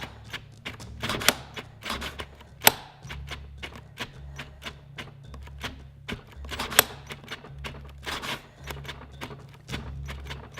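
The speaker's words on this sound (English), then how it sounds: "I just keep clicking the trigger to bypass it" A cordless drill's trigger is clicked over and over to get past its thermal cutoff, giving a fast, irregular run of sharp plastic clicks close to the mic, with a few louder snaps.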